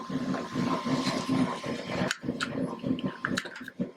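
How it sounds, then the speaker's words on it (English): A 3D printer runs somewhere in a room, its faint, steady motor whir and hum sitting under a thin wash of background noise throughout, with a few brief clicks near the end. "I have a 3D printer printing in the background"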